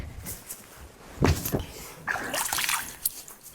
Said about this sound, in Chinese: 土豆先洗一下，有泥巴